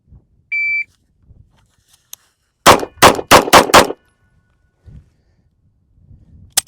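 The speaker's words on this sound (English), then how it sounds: "I'm gonna shoot 2 5-shot strings on the buzzer and we'll just see how fast we can shoot it" A shot-timer buzzer beeps once, then after a pause a Beretta 92X pistol fires a quick string of five loud, sharp shots close by, followed by faint handling sounds and another shot starting at the very end.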